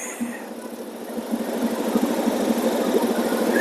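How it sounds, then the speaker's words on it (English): A Suzuki Address scooter engine idles at a traffic light on a Jakarta commute, a low, even putter that swells slightly toward the end. "And we can turn off the engine."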